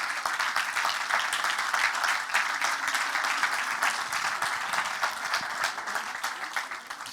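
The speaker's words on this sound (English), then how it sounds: "also an applause for" Audience applause at a thesis award ceremony, steady dense clapping from a crowd sustained throughout and easing slightly toward the end.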